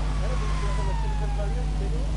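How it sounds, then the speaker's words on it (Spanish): A fire truck siren wails with a single long tone sliding slowly downward, moderately faint over a loud, constant low engine and road rumble from a car in traffic. "ahora un camión de bomberos"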